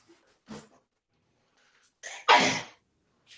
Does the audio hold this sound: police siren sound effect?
no